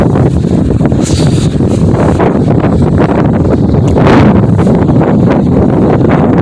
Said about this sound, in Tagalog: Medyo malakas na hangin kaya medyo sigurado ako maingay ang ano.